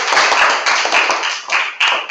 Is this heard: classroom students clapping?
yes